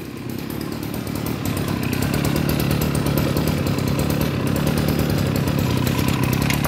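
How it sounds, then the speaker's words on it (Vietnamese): A pair of Echo chainsaws in like-new condition, one engine running steadily up close with a loud, buzzing two-stroke roar that builds slightly after the first second and then holds at a constant high idle. "Và đây em khèo lên cho mấy bác nghe tiếng máy. Một cái máy trên cả sự tuyệt vời."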